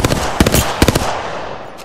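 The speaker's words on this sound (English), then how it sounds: "Shooting" Short, close bursts of automatic gunfire in Apex Legends, two rapid clusters of shots that fade into a brief echoing tail.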